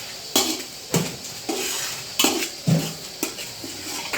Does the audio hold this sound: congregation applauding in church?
no